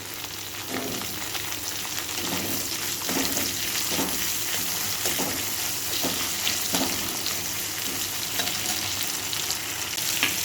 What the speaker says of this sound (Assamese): এতিয়া মই এই তেলখিনিতে অকণমান কেপচিকাম ভাজি লৈছোঁ।